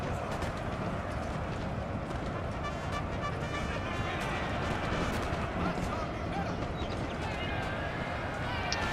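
Cavalry horses gallop across a Napoleon Total War battlefield, a dense, continuous rumble of hooves mixed with distant musket and artillery fire, steady and loud throughout, with a voice talking over the din.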